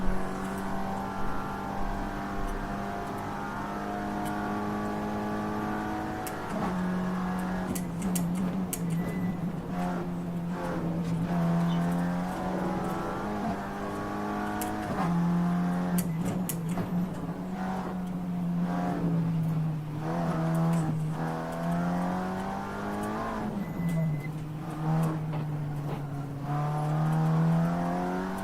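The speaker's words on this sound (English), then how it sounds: "we are basically running in a 2024 Audi TCR car" A 2024 Audi TCR race car engine in a Nordschleife sim race, loud and close and sustained, with pitch climbing through gears and then dropping in repeated shift steps over nearly half a minute.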